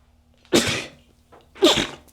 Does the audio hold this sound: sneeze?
yes